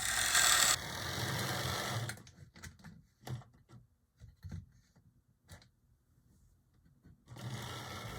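A Rivarossi model steam locomotive's small electric motor whirs in bursts, a loud buzzing run at first, then scattered short clicks and whirs in quiet stretches before the motor hums again.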